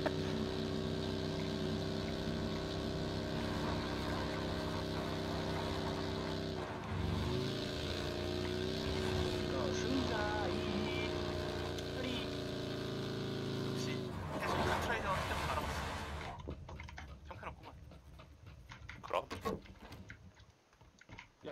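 A car engine in PUBG drones steadily, rising and shifting in pitch, with keyboard and mouse clicks alongside before it cuts out and fades.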